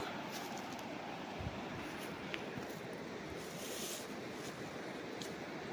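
A stream on a sloping farm in Majayjay, Laguna rushes downhill toward a river, giving an even, dense hiss of flowing water that holds steady throughout with no talking.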